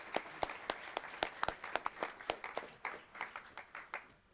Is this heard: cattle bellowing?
no